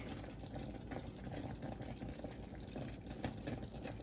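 Honey plum jam simmering in a pot, a steady close bed of soft bubbling and popping that holds even and unbroken throughout, with no voices.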